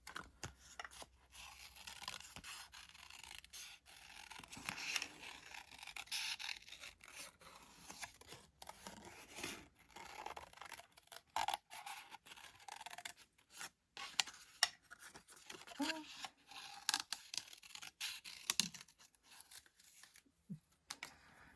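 Scissors snip through stamped paper card pieces, giving faint, irregular cutting and rustling sounds close up, repeated in short bursts with quiet gaps and no talking.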